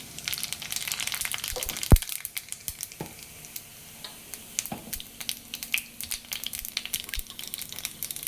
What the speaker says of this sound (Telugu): మనకి ఆయిల్ అయితే హీట్ ఎక్కిపోయింది జీలకర్ర అయితే వేసుకుంటున్నాను